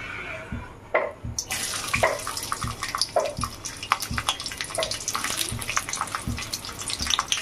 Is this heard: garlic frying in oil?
yes